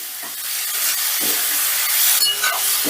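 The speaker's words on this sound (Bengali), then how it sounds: "সয়াবিনগুলো বেশ লাল লাল করে ভেজে নিতে হবে" Soya chunks fry in hot oil, giving a continuous bright hiss and sizzle with small bursts as they are stirred, steady and close throughout.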